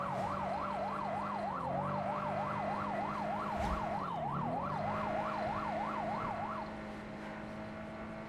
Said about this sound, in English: You don't like that siren?